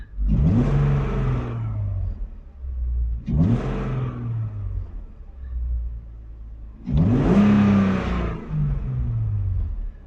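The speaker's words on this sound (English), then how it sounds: "You can definitely hear the air rushing into the motor" Car engine fitted with a cone intake filter, heard from inside the cabin, revving up three times with a rising roar and audible intake rush, then settling back to idle between revs.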